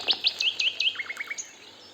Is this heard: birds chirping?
yes